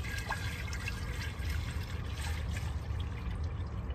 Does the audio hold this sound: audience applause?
no